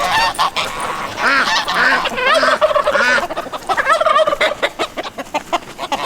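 Turkeys gobble repeatedly on a farm, loud, close and overlapping in rapid bursts, with a few other fowl calls mixed in and no talking.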